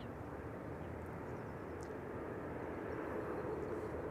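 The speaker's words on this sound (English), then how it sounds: "KLM Cargo getting pushed back, operated by Martin Air, leaving for Seoul" A KLM Cargo freighter operated by Martinair being pushed back at Amsterdam Schiphol, heard as a faint, steady distant jet engine hum and airport rumble with no talk over it.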